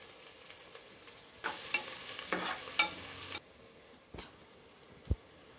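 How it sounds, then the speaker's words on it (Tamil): Chopped onions sauté with a little salt in a pan for a country chicken curry, a sizzle swelling loudly midway with scraping stir strokes, then dropping back to faint frying with a couple of sharp clinks. "இப்போ இது எல்லாத்தையும் நல்லா வதக்கிக்கோங்க."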